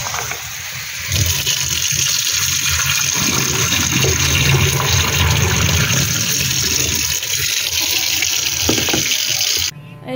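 Water runs and splashes steadily and loudly while someone bathes, a close continuous gushing that stops abruptly near the end.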